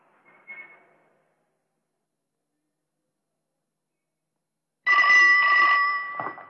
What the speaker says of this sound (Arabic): الاستاذ زين العابدين تليفون.